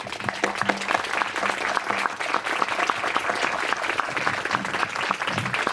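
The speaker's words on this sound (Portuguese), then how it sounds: "E eu pediria a vocês uma salva de palmas ao professor Graziano" A festival audience at the 1st Festival de Inverno de Avaré in Brazil gives Professor Graziano a dense, steady round of applause that holds at full strength throughout, with a faint voice or two underneath.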